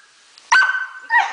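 A single sharp dog bark, then a second shorter yip about half a second later, close and loud against a quiet room.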